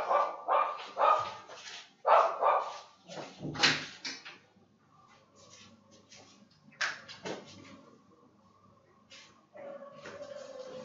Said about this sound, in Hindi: डॉगी को डांटा है थोड़ा सा, दोबारा शायद भौंकने ना लग जाए